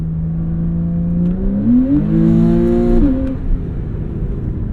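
A 2014 Porsche 911 Carrera S engine accelerates hard with the throttle floored, a loud, close, rising engine note that climbs steadily in pitch, drops briefly at a shift, then climbs again.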